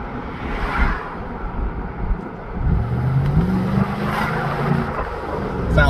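A V8 Toyota 4Runner with a sport-tuned exhaust idles, then revs up with a throaty rumble that rises and falls; quiet background noise, no talking.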